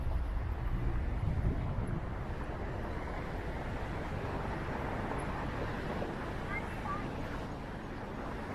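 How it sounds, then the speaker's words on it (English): Gusty wind blows on a city street while someone walks home from East Chinatown, producing a continuous low roar and buffeting rumble that is heaviest in the first couple of seconds. "It's quite windy and blustery here."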